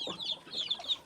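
Chickens from three groups of backyard birds of different ages cluck in a short run of repeated, fairly close calls, with no talking.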